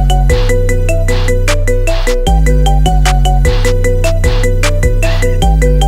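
An iPhone ringtone plays a marimba remix of a song, with bright, loud mallet notes in a bouncy repeating melody over a deep bass line, continuous throughout with no voices.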